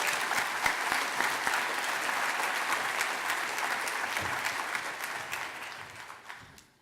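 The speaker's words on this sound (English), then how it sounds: "please join me in giving her a special round of applause as we welcome her to the stage" A conference audience applauds steadily as a speaker is welcomed to the stage, a dense, sustained wash of many hands clapping that holds for several seconds before tapering off at the end.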